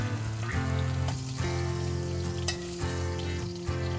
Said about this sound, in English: just keep repeating the process until you have all the bear meat seared